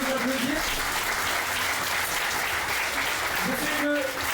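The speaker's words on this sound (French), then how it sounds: "on peut les applaudir" Applause from an audience at a union and political debate at the Fête de l'Humanité, steady and dense clapping that carries on throughout, with a voice briefly audible at the start and end.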